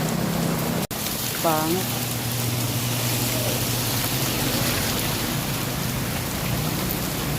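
Heavy rain pours steadily outdoors as a constant dense hiss, with a sharp click near the start and a brief voice partway through.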